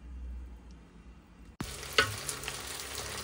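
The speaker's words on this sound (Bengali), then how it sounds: "এই পাশটাতে হচ্ছে আমি বিরিয়ানির চালটা ভেজে নিচ্ছি ভালো করে" Biryani rice fries in a pan, and a bright, loud sizzle with stirring scrapes starts abruptly partway through after a quieter opening hum.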